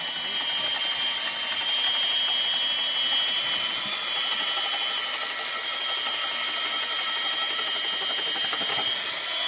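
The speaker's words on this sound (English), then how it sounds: "One more hole to drill." A power drill bores a hole in timber for a timber frame barn, a steady high-pitched whine running continuously close by without pause.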